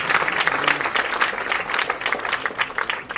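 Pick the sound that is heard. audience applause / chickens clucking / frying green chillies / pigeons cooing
audience applause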